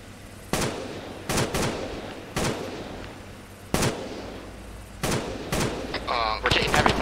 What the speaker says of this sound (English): We're taking heavy fire here